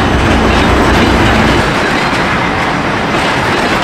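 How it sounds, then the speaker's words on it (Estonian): A freight train of fuel tank wagons rolls past on the railway close by, a loud, steady rumbling roar of wheels on rails that fills the whole stretch without pause. "Kütusevagunid on mööda lastud, teeme uue katse."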